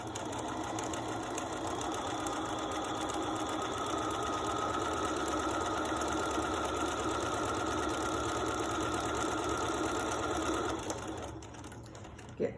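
A sewing machine runs continuously, stitching a fabric face mask alongside a pipe cleaner, with a steady mechanical whir that stops abruptly near the end, leaving a short quiet tail and a small click.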